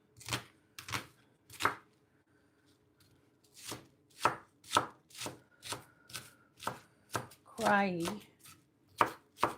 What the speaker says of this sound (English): I have chopped up the onions, the carrots, the celery.